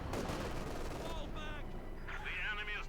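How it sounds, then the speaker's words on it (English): Support weapons and mortars fire in Company of Heroes 2, a dense stream of gunfire and explosions rumbling steadily throughout, with a commentator's voice running over the battle. "This time the support weapons here, unleashing fire from above."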